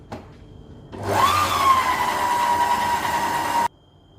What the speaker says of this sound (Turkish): Şimdi çok az düşük derecede çırpacağım